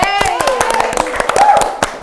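Applause for guest speakers at a talk show: sharp, separate claps from a small audience, close and brisk, mixed with a voice talking and a brief tonal sound.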